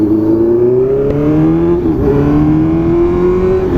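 Honda CB650F four-cylinder motorcycle engine roaring steadily up close, a loud continuous drone whose pitch climbs, dips briefly, then rises again as the bike rides along.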